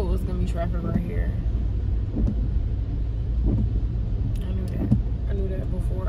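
Steady low rumble of road traffic heard from inside a moving car, with faint muffled thumps and a brief whine near the end; no one speaks over the continuous engine and tire drone.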